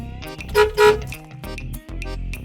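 A car horn beeps in short bursts, two sustained tones close together followed by more blasts, loud and near over a low engine rumble, with no speech.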